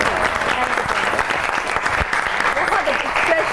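An audience on a Pakistani Eid special comedy and music show claps in sustained, dense applause that stays loud and even from start to finish.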